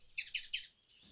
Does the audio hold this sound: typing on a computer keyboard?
no